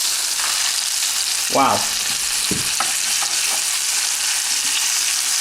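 Chicken wrapped in bacon fries in a pan with a steady, loud sizzle throughout, joined by a few brief scraping sounds as pieces are turned, and a short spoken exclamation.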